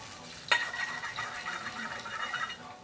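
Garlic hits hot oil in a pan for a restaurant-style chicken Ceylon curry, a sharp clatter followed by a steady, faint sizzle and light stirring.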